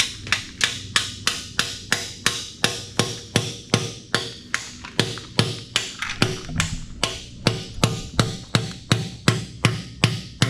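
Hammer blows knocking a piston out of a blown Subaru EJ25 engine block in a garage, a long steady series of loud, close metallic strikes at a regular pace, with no talking over them.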